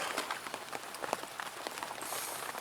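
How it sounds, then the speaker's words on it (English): Heavy rain patters continuously on a bushcraft shelter, a dense, close hiss broken by scattered louder drips and splashes. "Peeing down with rain has done all night since we climbed in"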